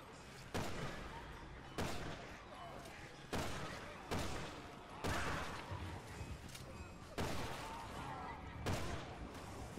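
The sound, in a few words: gunfire shooting zombies in video game Resident Evil 6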